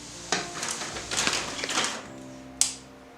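Ingredients fry in a pan for a comfort meal, giving a steady crackling sizzle with a few sharp clinks of utensils against the pan, close by and without any talk.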